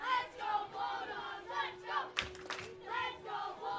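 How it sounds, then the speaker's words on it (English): At a 10U Cal Ripken World Series youth baseball game, a crowd chants "Bulldogs" in rhythmic repeated shouts, a fairly distant, reverberant chorus with a few sharp claps among the voices. "Bulldogs chants roaring through the crowd."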